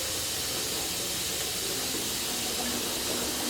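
Water runs at full flow from a SimPure filtration tap, a steady close rushing hiss with no breaks.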